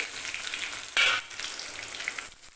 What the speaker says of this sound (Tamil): கடுகு பொறிஞ்சிருச்சு இப்போ வெங்காயம் கருவேப்பிலையும் போட்டுக்கலாம்